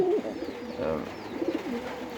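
Domestic pigeons coo in a soft, repeated throaty rhythm, close by, with a few overlapping calls across a quiet room-like background.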